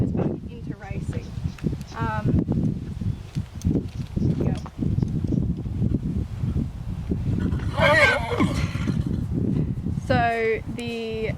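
A horse in a paddock whinnies in several bursts, a sharp neigh in the middle and another near the end, while a person talks throughout, with rustling and light hoof sounds beneath.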